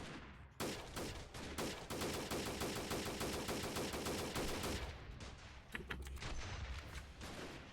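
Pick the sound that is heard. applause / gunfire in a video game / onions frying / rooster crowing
gunfire in a video game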